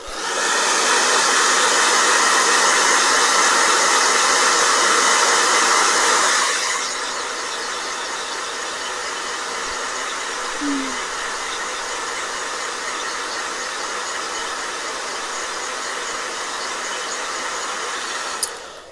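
A blow dryer roars loud and steady at close range for several seconds, then cuts off, leaving a quieter hiss with a brief click near the end.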